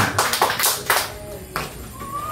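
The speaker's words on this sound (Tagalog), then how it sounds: "Isang malakas na palakpak po para sa ating Panginoon" Church congregation at a preaching service clapping, a few scattered claps in quick succession, close and fairly loud, then tapering off.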